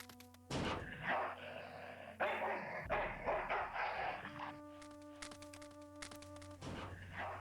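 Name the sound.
dog barking in the video game Full Throttle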